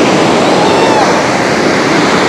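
Floodwater released from Bhavanisagar dam roars as a loud, steady, unbroken rush of water, like heavy surf, that fills the whole stretch with no pauses.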